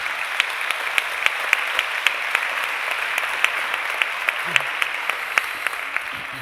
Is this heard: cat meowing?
no